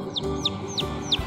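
Chickens from a flock of multicoloured chicks give four short, evenly spaced high chirping clucks, close by, over a low room murmur with no talk.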